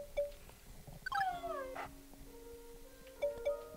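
A dog in the video game Moon gives soft whimpers and a rising, wavering howl, a few short yelps spaced across a quiet game scene with no talk.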